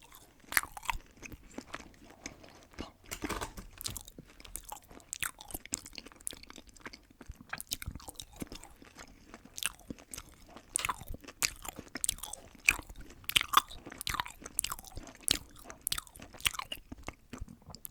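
Close, quiet chewing and crunching mouth sounds from an ASMR food tasting, with steady irregular crisp bites and mastication throughout and no talking.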